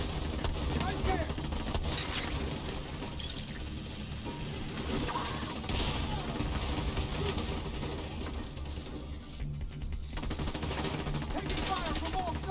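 Gunfire rattles through a Division 2 firefight, sustained bursts and scattered shots mixed with combat noise, while voices shout under the shooting.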